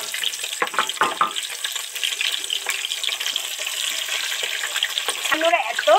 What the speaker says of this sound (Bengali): ক্যাপসিকাম তো একদম শর্ট করে ভাজা হয়ে গেছে, ডিপ ফ্রাই করে নিয়েছি